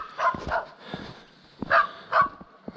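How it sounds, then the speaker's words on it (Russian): A yard dog guarding a house at dusk barks in several sharp woofs, two pairs of barks spaced a second or so apart, moderately near in quiet outdoor surroundings. "Дворовой пес провожает меня лаем, охраняет дом."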